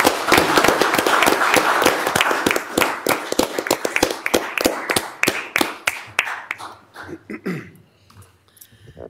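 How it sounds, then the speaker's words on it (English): Applause from the audience at a county fiscal court meeting, a dense burst of close hand claps that thins out into scattered claps and then stops. "I want to give you a round of applause"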